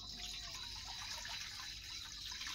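Tap water running steadily into a kawali pan as lechon cooking begins, a continuous splashing, hissing flow that stays fairly quiet throughout with no voices.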